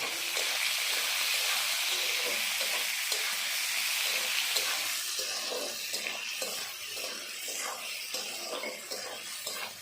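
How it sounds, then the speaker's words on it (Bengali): Chopped onions frying in oil with cumin seeds in a pan, a strong continuous sizzle up close that softens after a few seconds into lighter crackling and stirring. "কুচানো পেঁয়াজ দিলাম।"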